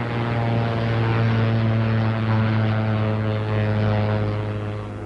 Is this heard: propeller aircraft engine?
yes